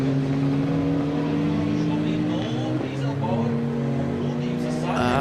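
Race cars on a circuit track in Riga hold a steady, loud engine drone with slight pitch shifts, while a commentator talks over the noise.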